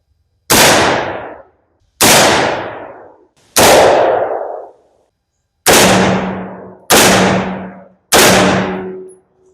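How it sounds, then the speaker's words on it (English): Six loud, sharp metallic bangs, each with a ringing tail, come in a steady series as ventilation holes are put in the bottom of a metal burn barrel on an off-grid homestead. There is no speech. "I'd go ahead and get some ventilation holes put in the bottom of that burn barrel"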